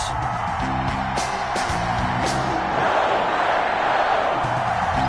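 A stadium crowd in an NFL football video game, Tampa Bay Buccaneers against Green Bay Packers, roars as a steady, dense wash of cheering, with occasional whoops rising from the din and faint voices mixed in.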